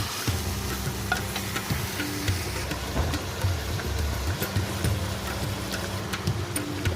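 Kasuri methi chicken masala frying in mustard oil and being stirred, a continuous close sizzle with steady spoon scraping and stirring throughout, no voices.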